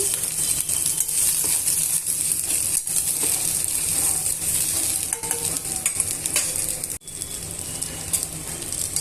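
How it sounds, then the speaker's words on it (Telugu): Peanuts, green chilies and ginger fry together in a pan, giving off a dense, steady sizzle and crackle, broken now and then by stirring scrapes and a brief pause, with no one talking. "అల్లం ముక్కలను యాడ్ చేసుకున్న తర్వాత ఇవన్నీ కూడా వేయించేసుకొని"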